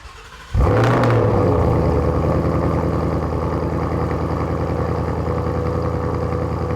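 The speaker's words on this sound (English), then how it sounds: "Nice and loud at idle." A 2018 Mustang GT fastback with a Corsa Sport cat-back exhaust and quad tips fires up with a sharp bark, then settles into a loud, deep, burbling idle close to the tailpipes.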